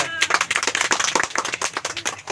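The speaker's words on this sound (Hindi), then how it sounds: "ताली बजा दो एक बार।" A small group of people at a picnic claps after a magic trick, a brief run of quick, uneven hand claps close by, with voices mixed in.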